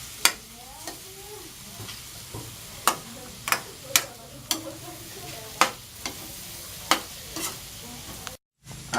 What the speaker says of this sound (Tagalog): Then saute it again for about 2 to 3 minutes until you can see that the beans have already softened